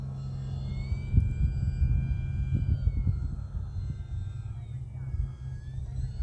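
A full-scale airplane passes far overhead, a faint droning engine hum and low rumble beneath close wind buffeting and handling noise outdoors at a model flying field.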